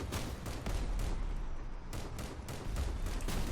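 Gunfire in the vehicle combat game Crossout, from a small plane build armed with 25mm guns: repeated punchy bursts of shots hammer out at close range in uneven clusters, loud and alone.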